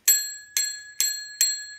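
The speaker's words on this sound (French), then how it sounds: "j'ai acheté une petite sonnette toute simple qui se met au niveau du guidon" Small, simple handlebar-mounted bicycle bell struck four times in an even rhythm, each bright ring close and clear, then quickly fading.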